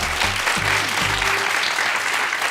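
Studio audience applause on the Turkish TV quiz show Büyük Risk, a steady wash of clapping that runs the whole stretch, with brief tonal sounds near the start.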